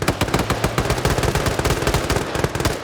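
Gunfire in a video game, with dense rapid bursts of automatic weapon fire cracking continuously and loudly, shot after shot with almost no pause.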